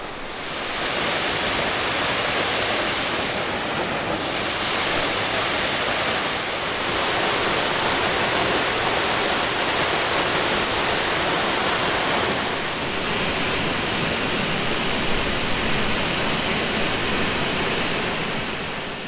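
A small waterfall along a hiking detour gives off a steady, full rushing roar of falling water. It runs continuously and evenly throughout, close and fairly loud, with no voices over it.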